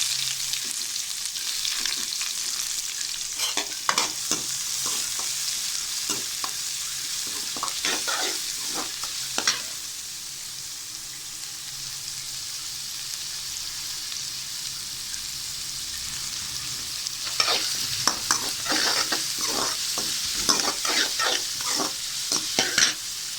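Onions sizzling in a pan while a spatula stirs them in bursts of rapid scraping, the hiss easing to a quieter bubble midway before the stirring picks up again, close and with no talking.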